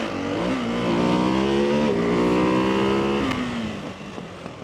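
A Ducati 698 Mono supermoto motorcycle's single-cylinder engine revs hard and accelerates close by on a track, its pitch climbing in steady rising sweeps with brief dips between, loud throughout and easing off near the end.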